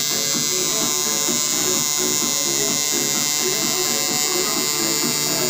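A tattoo machine needle buzzes steadily and loudly into skin during a beginner's tattooing session, a continuous electric hum with a rhythmic pulsing pattern, with speech heard alongside it.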